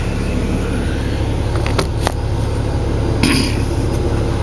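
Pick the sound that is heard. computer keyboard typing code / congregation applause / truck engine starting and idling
truck engine starting and idling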